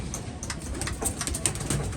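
Pigeons cooing softly close by, several low repeated coos over a faint background of rustling and small chirps.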